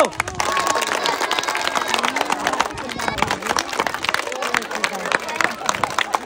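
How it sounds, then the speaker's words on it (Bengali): Crowd applause rings out at a balloon-popping game in a district competition. Quick, dense claps carry on steadily while a voice talks loudly over the hubbub. "সবাই জোরে হাত তালে, হাত তালে হয় না কেন?"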